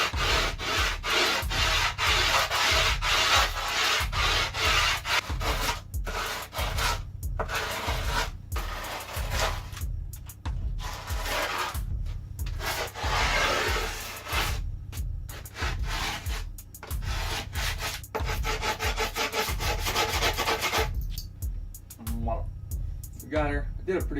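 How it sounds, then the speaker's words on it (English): A metal tool rubs and rasps along the edges of new skateboard grip tape as it is ground down, a steady scraping, filing texture with rhythmic strokes running close and loud throughout, with a voice talking in places. "So I just like to use that part there and just grind down my sides and all around"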